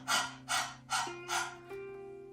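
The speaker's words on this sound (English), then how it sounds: "Breath of fire comes from the belly, and it's like panting with the nose instead of the mouth." Breath of fire: four quick, forceful exhalations pushed out through the nose from the belly in a rapid, even rhythm, close and moderately loud. A softer, drawn-out breath follows.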